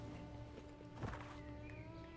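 A horse in the video game V Rising makes a brief, faint snort or hoof sound at mid-clip over a low, steady background hum.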